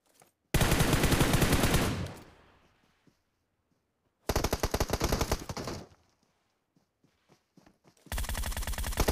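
Loud rapid automatic gunfire in PUBG on the Livik map comes in three separate sustained bursts, each followed by near silence.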